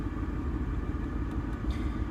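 A 1984 Land Rover 110 station wagon's V8 petrol engine idles with a steady low rumble and faint constant hum, close and continuous throughout, with no talking.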